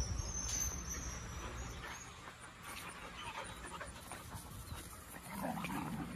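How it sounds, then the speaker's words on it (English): Several dogs pant and scuffle while playing in an outdoor kennel yard at a rural Florida boarding facility, with soft whimpers and movement noise at moderate distance. "This is where the dogs stay, and they get to run around in the yard."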